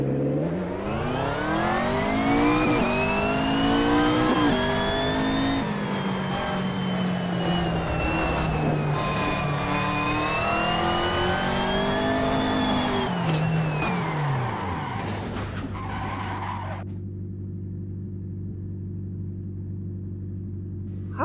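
Race car engines in a PS4 racing game accelerate at the start of a race, a continuous loud whine rising and falling through gear changes for about fifteen seconds before settling into a lower steady hum, with no talk.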